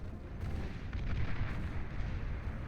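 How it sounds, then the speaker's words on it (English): A base being blasted apart in the Beyond All Reason real-time strategy game, heard as a dense, continuous rumble of artillery-like explosions and booms with no clear gaps. "the blue base is slowly but surely being blasted apart"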